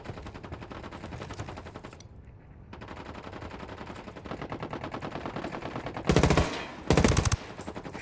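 Rapid automatic gunfire from a weapon in the video game Narco Road, a steady stream of close shots in sustained bursts, broken by a brief pause and two louder, harsher blasts near the end.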